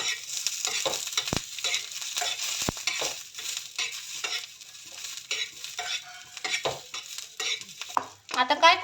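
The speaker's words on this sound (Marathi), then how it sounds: "त्या मिरच्यांवरच मी अद्रक लसूण घातलंय, ते पण चांगल्या प्रकारे भाजून घ्यायचं" Ginger and garlic roast on top of green chillies in a pan while cooking urad dal varan, giving a steady close sizzle broken by repeated scraping stirs of a utensil, with no talking.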